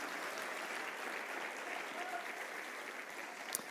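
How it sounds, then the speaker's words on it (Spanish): A church congregation applauds in a steady, faint wash of clapping, continuous and fairly distant, with a sharp knock near the end. "Denle un aplauso bien fuerte al Señor de señores."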